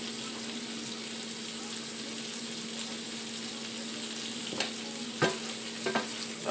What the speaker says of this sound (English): I'm just moving them around in the pan